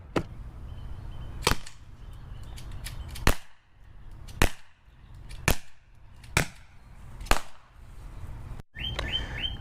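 A Byrna CL launcher firing kinetic projectiles: several sharp, loud pops spaced about a second apart, with light outdoor ambience and bird chirps in between.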